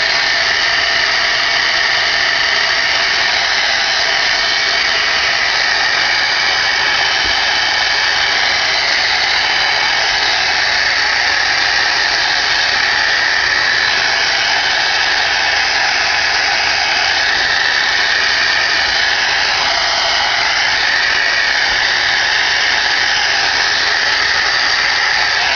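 A heat tool blows hot air onto the back of freshly colored paper flowers, a loud, continuous whirring hiss that holds steady for nearly half a minute with no speech.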